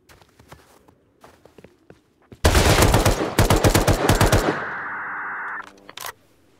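Footsteps in the video game Rust give way to a loud, rapid burst of sniper gunfire, a dozen or so sharp cracks in quick succession, followed by a lingering ringing tone and one last shot.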